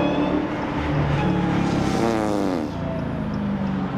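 A Dodge Challenger Hellcat engine revs hard and loud, its deep roar climbing and then falling in pitch without a break, close by.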